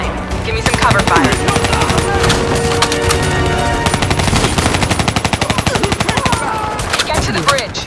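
Sustained machine gun cover fire in the video game Call of Duty Black Ops 3, loud continuous rapid bursts rattling almost without pause over battle noise and a droning score.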